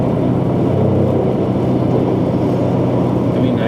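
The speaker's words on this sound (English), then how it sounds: "And the sound shifting gears, they're insane." Inside a 2017 Mercedes-Benz GLE 450 AMG on a test drive, the engine drones steadily and loudly up close, a dense continuous roar without distinct breaks.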